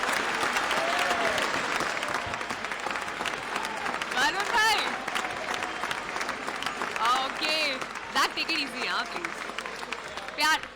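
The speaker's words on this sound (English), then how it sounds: "I want you all to cheer us up." Crowd at a World Cup 2023 promotional stage event cheers and applauds steadily and loudly throughout, with whoops and shouts rising above the clapping while a host speaks over the noise.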